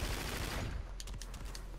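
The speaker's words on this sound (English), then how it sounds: "I like the sound effects of the guns" Automatic gunfire in the Call of Duty: Infinite Warfare beta, a dense rattling fusillade at the start that gives way to rapid, sharp cracks and bursts further off, loud and steady under the game's ambient noise.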